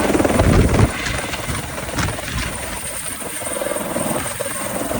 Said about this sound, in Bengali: আর আসার পরই মানুষের এত উত্তেজনা আর চিৎকার, সাথে হেলিকপ্টার ল্যান্ডিং এর শব্দ